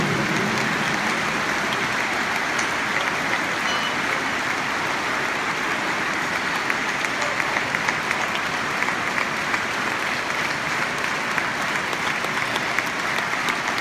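An audience at an evening show applauds children on stage in long, steady clapping that sounds like dense patter, holding a fairly even level throughout with no voices over it.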